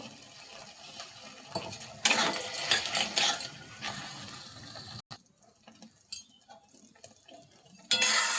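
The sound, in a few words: stirring tomato chutney with sugar in a pan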